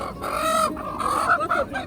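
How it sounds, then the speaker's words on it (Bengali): Large roosters for sale at a morning riverside market at Narisha Ghat, Dohar, cluck and squawk close by in short overlapping calls. "মোরগ বড় বড় মোরগ"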